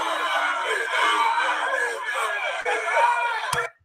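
A large, dense crowd at a street confrontation between rival groups yelling and shouting together, a continuous loud roar of overlapping voices with chatter and laughter mixed in, cutting off abruptly at the end.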